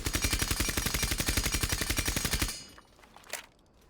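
A suppressed gun firing full-auto in Rainbow Six Siege, a fast, even stream of muffled shots lasting about two and a half seconds, then quiet with a faint mechanical clack.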